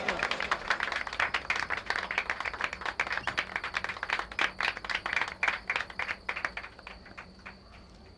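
An audience applauds a businessman who is the evening's sponsor at a nostalgic Turkish comedy series event, with dense, steady clapping from many hands that thins out into scattered claps near the end.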